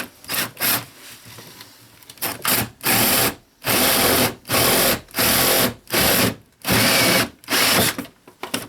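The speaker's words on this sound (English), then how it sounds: "Now I'm going to drill down close to the bottom, but away from the corner" A power drill bores through drywall near the bottom of a wall, running in a series of loud, close bursts of about a second each, separated by short pauses, with no talking.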